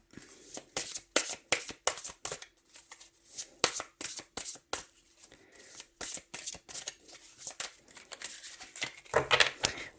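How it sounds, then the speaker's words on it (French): A tarot deck being shuffled up close: a long series of quick, papery riffles and slaps in uneven rhythm, fairly loud, with a brief busier flurry near the end and no speech. "Je mélange bien parce que je vais mélanger une fois."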